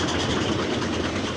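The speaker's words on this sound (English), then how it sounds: "the overall effect of a steam locomotive climbing hard uphill, you had this sort of exhaust being poured out the chimney, and the sound was tremendous" A steam locomotive working hard uphill on a railway line roars with a loud, continuous rumble and churning exhaust, close and dense throughout with no voices.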